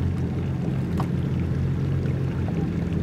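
A Yamaha boat with thrust vector control idles while turning, giving a low steady engine rumble with water sloshing around the hull, constant and moderately close.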